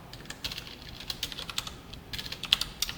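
Someone types on a computer keyboard while coding, with a quick, steady run of light, close key clicks over a faint background hiss and no talking.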